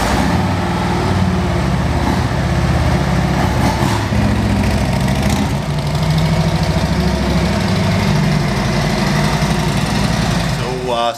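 A motorcycle engine idles close by with a steady, loud, slightly knocking rumble that runs unbroken for the whole stretch.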